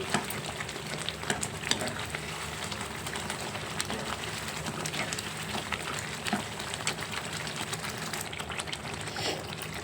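Chicken masala curry cooks in a pan with a steady, close sizzle and frying crackle, with occasional stirring scrapes, and no talk throughout.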